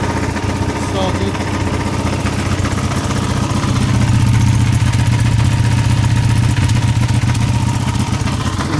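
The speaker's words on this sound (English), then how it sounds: "You can see the noise is quite muted. In fact, yeah, quite a lot of noise from the engine." A Ducati 1299 Superleggera sport motorcycle engine runs nearby, a loud, steady low-pitched idle drone with a mechanical clatter that holds evenly throughout and swells slightly partway through.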